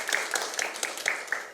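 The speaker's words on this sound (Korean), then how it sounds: "인사 큰 박수로 맞아주시죠." Audience applause greeting a city councillor arriving at a Seoul public policy forum, a steady spread of hand claps at moderate level from a room of attendees.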